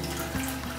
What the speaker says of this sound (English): We pour this right into the tank here.